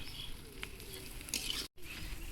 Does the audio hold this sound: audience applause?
no